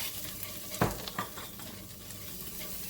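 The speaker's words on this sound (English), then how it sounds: "I'm just kind of scraping the bottom of the pan a little bit." A utensil scrapes along the bottom of a pan, with a couple of short, distinct scrapes over a soft, continuous sizzle.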